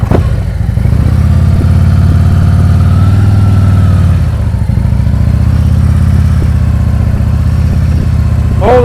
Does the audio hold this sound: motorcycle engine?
yes